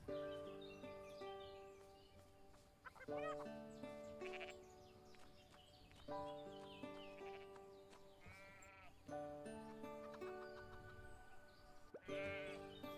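Sheep bleat again and again in the farming game Everdream Valley, several animals calling in waves over a steady background music bed, with loud clustered bleats recurring about every three seconds.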